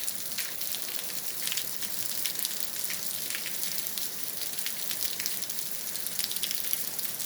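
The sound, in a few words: heavy rain during thunderstorm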